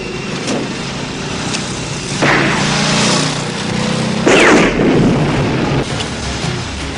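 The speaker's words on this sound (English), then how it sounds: "Cobra, blow those motherfuckers up whenever you're ready" Explosive charges detonate in a staged weapons test, two heavy booms around the middle of the stretch with broadband blasts over a rumbling, noisy background, loud and close.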